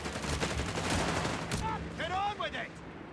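Rapid machine-gun bursts from an MG42 in the Company of Heroes 3 strategy game, loud crackling fire mixed with battle effects and short whistling tones, heard under a commentator's talk.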